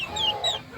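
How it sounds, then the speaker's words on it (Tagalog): A newly hatched Sebright chick gives a couple of short, high peeping chirps, faint and close, with no talking. "Yan yung ating bagong sisiw."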